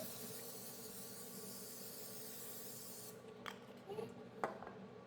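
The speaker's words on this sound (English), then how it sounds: "And spray the pan good so they don't stick." A continuous hissing cooking spray onto a bundt cake pan for about three seconds, then it stops, followed by a few light clicks and handling sounds.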